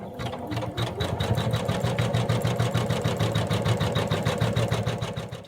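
A sewing machine stitches the outline of a toy mouse's tail onto fleece, running steadily with a fast, even mechanical chatter throughout, close and fairly loud with no talking.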